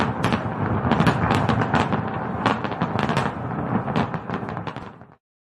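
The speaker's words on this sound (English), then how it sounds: "Yes, fireworks for you too, Gladys." A fireworks sound effect plays on a morning talk show's anniversary episode, a dense run of loud crackling pops and bursts for about five seconds before cutting off abruptly, with no speech.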